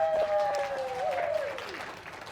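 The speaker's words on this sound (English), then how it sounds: "Can we just give her a big round of applause" A conference audience gives a round of applause, moderately loud and fading slightly toward the end, with a thin whistling tone gliding downward over the clapping for its first second and a half.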